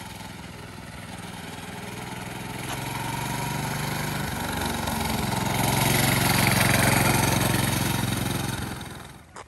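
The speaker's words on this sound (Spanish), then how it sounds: "Anda manejando una moto aquí." A small motorcycle ridden by a boy at a house in Naples, Florida, its engine droning steadily at moderate distance, swelling louder midway as it nears and then dropping off at the end.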